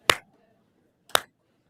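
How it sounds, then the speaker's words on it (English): Two sharp, isolated claps about a second apart, a deliberate team-style clap by one person in a quiet conference room, close and crisp with nothing else heard. "I'm going to do my soccer team clap"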